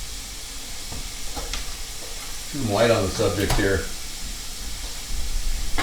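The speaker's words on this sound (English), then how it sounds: "throw those items, the small stalks, into the sizzling onions." Small vegetable stalks and onions sizzle in a pan with a soft, steady frying hiss while a person speaks briefly over it.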